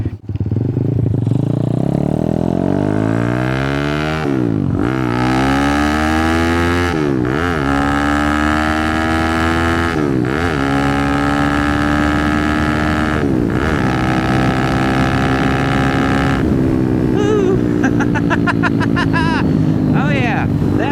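A 212-engine-swapped Honda Grom clone motorcycle being ridden, its small single-cylinder engine loud and close, rising through several revving pulls with brief dips between gear changes and some clatter.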